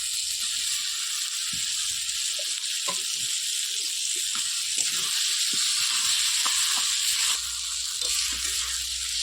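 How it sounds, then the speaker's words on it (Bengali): Potatoes and a fish head dropped into hot spiced oil sizzle with a sharp, steady hiss, close and fairly loud, with a few soft knocks underneath. "এবার মশলাটা থেকে তেলটা ছেড়েছে এর মধ্যে দিয়ে দেবো আলু তার মধ্যে দিয়ে দেবো এবার মাছের মাথা"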